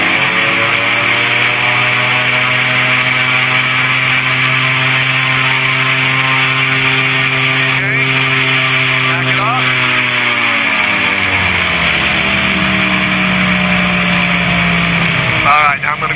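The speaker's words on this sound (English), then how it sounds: "We're going to do another run up, make sure the engine doesn't sputter." A light aircraft engine holds a loud, steady droning run-up with brakes on before takeoff, then throttles back to a lower idle near the end.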